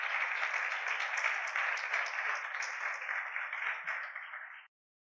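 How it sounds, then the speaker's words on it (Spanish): A church congregation bursts into sustained applause, a dense wash of many hands clapping loudly for about four and a half seconds before cutting off abruptly into silence. "Dele un aplauso al Rey."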